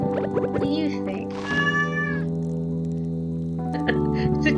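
Game-style cat meowing from Stardew Valley, a few drawn-out mews over steady background music, moderately loud, with a person talking over parts of it.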